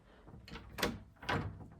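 A heavy bedroom door in a lakefront cabin swings through two soft, close whooshing movements, each ending with a low muffled bump.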